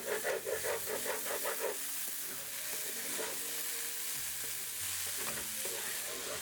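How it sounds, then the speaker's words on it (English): Black-eyed peas fry with cumin in a pan, giving a steady soft sizzle and hiss as they dry out, with stirring scrapes heard throughout and no voices. "this is the frying part where we dry it out"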